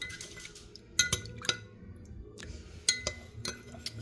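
Homemade conditioner ingredients being stirred in a cup with a spoon, giving sharp metallic clinks and taps against the container, scattered irregularly over low room noise.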